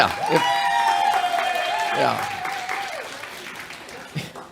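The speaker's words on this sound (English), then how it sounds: "She deserves a much greater applause than that." An audience applauds a speaker's wife at a Spring Alpha 2021 gathering; steady clapping runs throughout while high whistles and voices rise over it, thinning toward the end.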